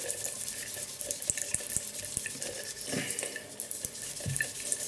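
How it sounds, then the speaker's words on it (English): Steady rush of tap water into a sink while a scrub pad is rinsed, a constant bright hiss with faint knocks and drips, close and with no talking. "now I get a pad, wash it a little bit, and then scrub"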